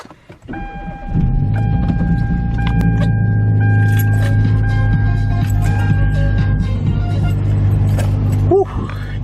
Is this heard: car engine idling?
yes